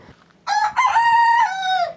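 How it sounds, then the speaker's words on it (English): A single rooster crows once, a loud, close cock-a-doodle-doo lasting under two seconds, in otherwise quiet farm surroundings. "That's our sweet roosters up there telling us that they're still there."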